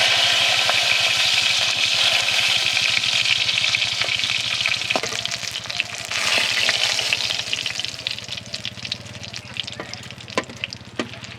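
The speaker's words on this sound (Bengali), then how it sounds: "এইভাবে সব মাছগুলো ভেজে নেব" Steady, loud sizzling of pangas fish pieces frying in hot oil, with scattered crackles and pops over a continuous hiss.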